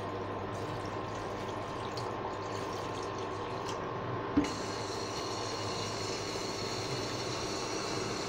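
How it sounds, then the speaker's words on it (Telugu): Water pours steadily into a bowl while red sandalwood tea is made, a continuous soft rushing with a single sharp clink midway. "ముందుగా ఒక బౌల్ తీసుకొని వాటర్ పోయాలి."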